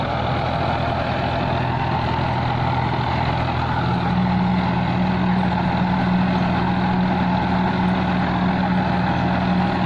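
A 2021 Swaraj 963 63 hp tractor with an 8-foot super seeder runs without load, its diesel engine droning steadily and loudly close by, a low hum rising slightly in pitch partway through.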